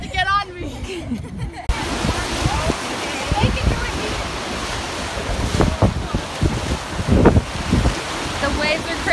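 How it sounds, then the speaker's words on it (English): Rough ocean surf churns steadily with gusting wind buffeting the microphone, a loud continuous roar with surges of breaking waves; voices are briefly heard near the start. "The waves are crazy today."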